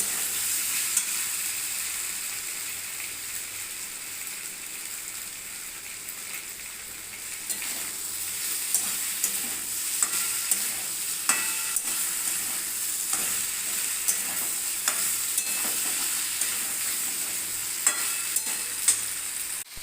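Vegetables for shukto sizzle and crackle steadily in a pan while being stirred, with frequent scraping strokes of a spatula breaking through the continuous frying hiss, close and moderately loud.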